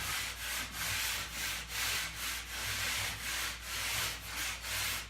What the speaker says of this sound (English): take your rasp, your drywall rasp, and just come along this edge here